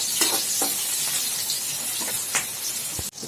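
Chopped onion dropped into hot oil with fennel and cinnamon for a capsicum and pea gravy, sizzling loudly and steadily with a few scraping stirs, ending in an abrupt cut.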